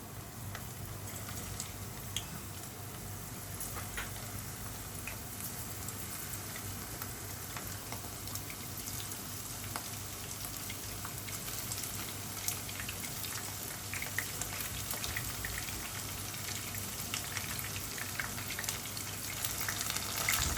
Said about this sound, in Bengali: এটা এখন একটু হালকা ব্রাউন করে ভেজে নেব